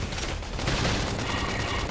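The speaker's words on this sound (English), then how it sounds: "Topple them with gunfire. Lay down some cover fire." Dense, continuous gunfire from a Xenoblade Chronicles X battle rattles on without pause amid clanking combat noise, loud and busy throughout with no speech.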